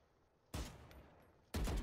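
Two sharp bursts of automatic weapon fire from the Valorant video game, a second apart. Each burst is loud and close, with a brief ringing tail between them.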